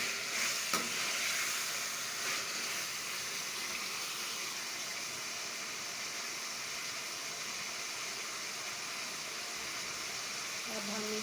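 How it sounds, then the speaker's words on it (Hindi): Soft stirring and low frying of chopped, washed potatoes in a pot for chicken biryani, a faint continuous sizzle with scraping, heard close and fairly quiet. "आलू धो के रखे हैं काट के, इसके अंदर डाल दिए, मिक्स कर रहे हैं।"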